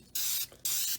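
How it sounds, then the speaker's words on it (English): Two short hissing bursts of an old aerosol spray can that is spraying weakly, close up, with a brief pause between them. "this spray is not coming out very well"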